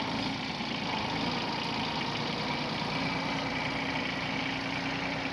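A Kubota GB130 mini tractor fitted with a 110 cm rotary tiller runs as it turns, its engine giving a steady, continuous mid-pitched drone at an even level throughout, with no one talking.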